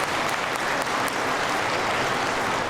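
Sustained, dense applause from a large audience at a speaking event, loud and even from start to finish with no voices on top.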